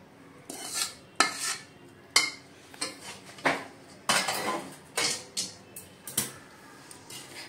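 Metal utensils clatter and scrape against a pan while a dink ladoo mixture is added and stirred in a home kitchen, giving a steady run of sharp clinks and knocks with short pauses between them.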